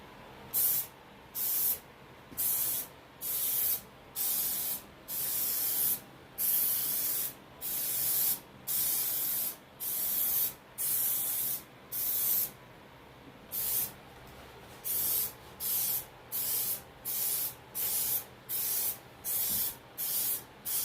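Gold spray paint hisses from an aerosol can onto an Ibanez Gio guitar body in about twenty short, evenly spaced bursts, each with a brief pause between, close and clear with no talking.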